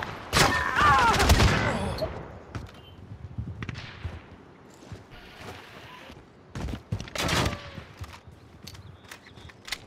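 Gunfire in the video game Call of Duty: Modern Warfare, scattered shots and bursts with a dense cluster early on and another burst near the end, mixed with footsteps and background movement.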